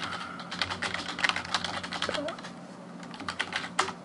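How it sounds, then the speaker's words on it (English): Typing on a computer keyboard while writing a Python currency converter script, a steady patter of close, crisp key clicks that keeps going throughout, with a few louder taps along the way. "I'm just going to type the name up here first."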